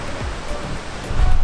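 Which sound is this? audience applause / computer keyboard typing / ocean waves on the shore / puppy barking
ocean waves on the shore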